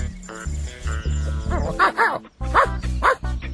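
A small dog barks and yips in a cartoon, quick high-pitched barks in short bursts, some whiny, close and clear over a low background hum.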